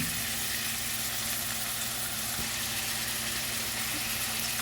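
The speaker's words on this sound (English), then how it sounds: "So I'm going to go ahead and get this meat brown" Ground meat for lasagna browning in a pan, a continuous dense sizzle and crackle holding steady at moderate loudness with a low hum underneath, no talking.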